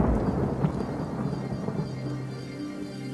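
A thunderstorm with a heavy rain downpour rumbles low and steady, a deep rolling thunder blended with a constant wash of rain, fading slightly toward the end.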